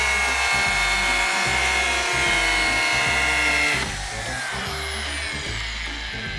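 Two identical power screwdrivers whir together while driving screws in a head-to-head race, a steady loud motor drone with a shift in pitch partway through as one machine changes speed.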